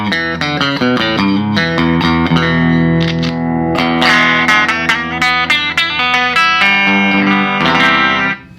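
Rickenbacker electric guitar plays a busy, jangly melodic line over sustained chords, the notes shimmering with warbling vibrato from a Magnatone amp, loud and continuous.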